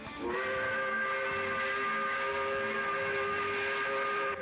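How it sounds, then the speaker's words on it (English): A loud, steady five o'clock factory shift whistle blows continuously with a rich chord of tones, sounding strong and unbroken for several seconds. "by blowing the 5 o'clock whistle"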